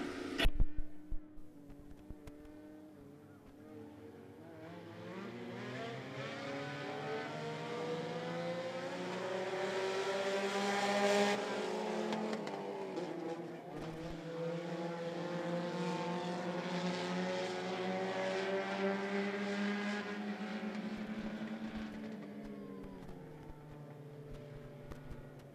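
Front-wheel drive race cars at I-75 Raceway roar off at the start of a race, several engines revving and droning together with rising and falling pitch, loud and sustained as the pack passes.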